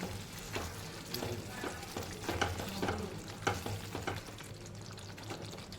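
Garam masala is stirred into methi malai matar in a sizzling pan. A spoon scrapes in soft, repeated strokes over a continuous gentle frying hiss, close and moderately quiet.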